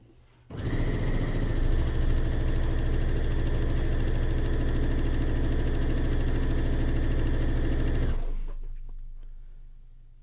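A sewing machine runs continuously while stitching quilt strips, a steady close mechanical whir for about eight seconds that then stops, leaving quiet room sound.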